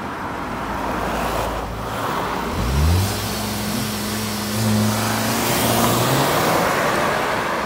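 A turbocharged car engine rises sharply in pitch as it pulls away hard from a drag start, then shifts and keeps accelerating, with steady road and wind noise around it.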